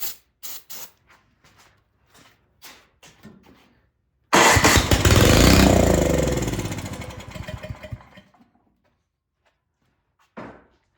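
A Craftsman snow blower engine, fed starting fluid through the carburetor, makes a few short knocks and clicks, then sputters into loud rough running for about four seconds before dying away, followed by a later brief thump.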